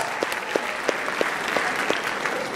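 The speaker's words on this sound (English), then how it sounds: "Huge round of applause for them, guys." Steady applause from an audience at a graduation ceremony, a dense wash of many hands clapping with some louder individual claps standing out at a regular pace, sustained and fairly distant throughout.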